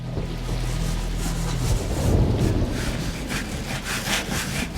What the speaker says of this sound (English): they were scrubbing the table with sand